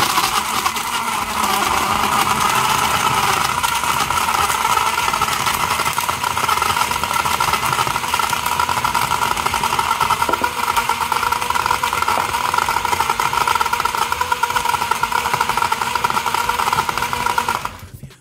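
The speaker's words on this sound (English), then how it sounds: "With ice, of course, ice in the blender." A blender runs continuously at high speed for a sorrel piña colada with ice and coconut cream, a loud steady motor whir and grinding that cuts off abruptly at the end.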